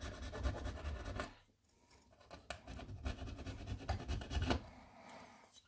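A metal file rasping back and forth on a model railway rail point, close strokes in bursts with a short pause in the middle.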